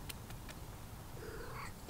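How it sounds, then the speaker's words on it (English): A calico house cat purrs softly and steadily at close range, a low, even rumble with no other voices around it. "Oh yeah, that's a good cat noise."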